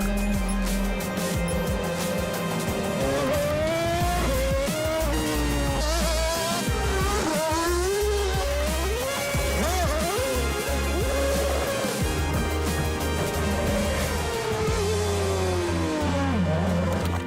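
A Red Bull RB18 Formula 1 race car driving, its engine revving loudly and rising and falling in pitch through gear changes, with a deep low rumble that runs throughout.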